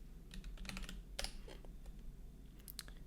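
Quiet typing on a computer keyboard, irregular bursts of light key clicks close by with short pauses between.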